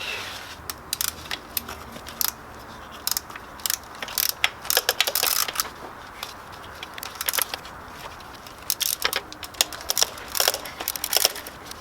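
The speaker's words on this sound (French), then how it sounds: "Enfin, que je vais resserrer les colliers." A ratchet tightens the hose clamps on the turbo pipe of a Peugeot Expert 2.0 HDi during a turbo replacement. Close, sharp bursts of rapid clicking come in irregular spells, separated by brief pauses.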